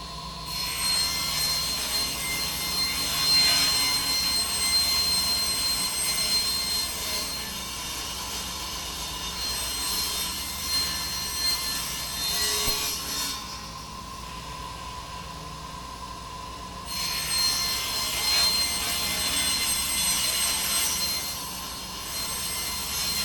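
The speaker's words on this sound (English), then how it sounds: "I'm going to get this chunked up so it's not a big old piece of plywood here in the middle of the floor" A power saw cuts a large sheet of plywood into pieces, a loud, continuous high whine running for long stretches with short dips between passes.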